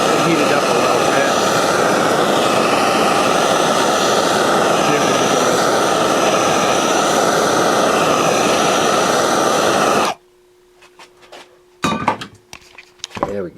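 Torch heating a wheel hub on a 1970 Rupp to free a stuck bearing race: a loud, steady roaring hiss for about ten seconds that cuts off abruptly, followed by a few metallic knocks and clatter.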